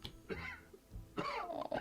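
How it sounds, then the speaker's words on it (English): A character in the video game World's Dawn gives a few small, soft coughs, two brief bursts separated by a short pause, fairly quiet. "Oh, his little cough."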